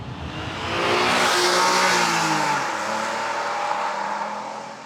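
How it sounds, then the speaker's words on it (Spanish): A 1994 Honda NSX accelerates loud and close, its engine note rising through a gear and then dropping briefly at a shift before pulling steadily again, with some tire noise and no talking. "Es una absoluta delicia el mero hecho de cambiar de marchas en este Honda NSX."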